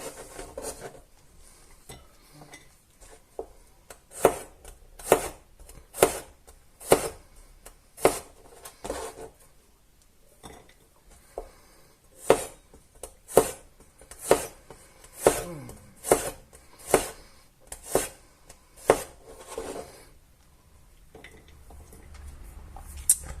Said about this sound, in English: I'm going to start off by just slicing these 3 garlic cloves